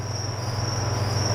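Two-spotted crickets on an insect farm chirp in a steady, continuous high trill, with a low constant hum underneath throughout.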